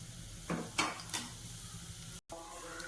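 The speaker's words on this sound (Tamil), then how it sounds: "எண்ணெய் ஊற்றியாச்சு இப்போ இதில் வந்து பட்டை லவங்கம் ஏலக்காய் கல்பாசி வந்து போட்டுக்கிறேன்" Cinnamon, cloves, cardamom and stone flower dropped into hot oil in a pan for keema curry, giving a few short bursts of crackling sizzle with light stirring scrapes, close and moderately loud.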